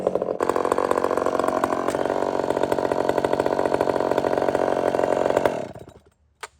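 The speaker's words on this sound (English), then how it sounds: "If you know what power saws are supposed to sound like when they run in the wood" A Husqvarna 572xp chainsaw with a new chain runs loud and close for about five seconds, a buzzing two-stroke roar with slight load wavers, then it cuts off abruptly, leaving near silence and a small thump at the end.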